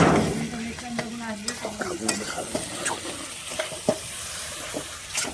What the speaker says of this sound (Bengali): আমাদের খাসির মাংস ছাড়া হচ্ছে কড়ার মধ্যে